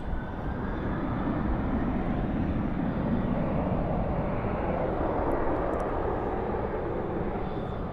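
Qatar Airways jet departing at night from Dallas/Fort Worth airport, rolling on the runway with a continuous broad engine roar, steady and moderately distant, alone without talk.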